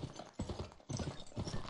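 Horse hooves clip-clopping in a video game, a quick run of hoofbeats in two clusters, close and fairly loud with no talk over them.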